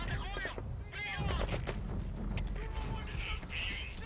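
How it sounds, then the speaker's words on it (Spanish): Gunfire in Metal Gear Solid V: The Phantom Pain, aimed at a helicopter, sounds as sharp repeated cracks and bursts through a steady noisy background, with someone talking over the shots. "¿Están disparando al helicóptero?"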